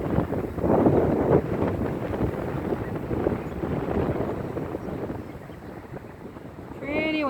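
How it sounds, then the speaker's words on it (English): Steady wind blowing over an open sheep pasture in a valley, a continuous roaring rush buffeting the microphone throughout, with brief speech near the end. "Pretty windy."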